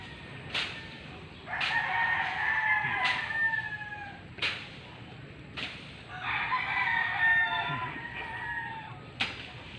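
A rooster crows twice in long, drawn-out calls, nearby and clear, with sharp snapping clicks punctuating the pauses.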